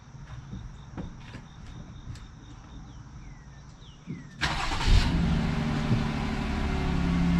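A 2020 Jeep Gladiator cranks and its engine catches abruptly, settling into a steady close idle, with quiet clicks and crickets audible beforehand and no speech.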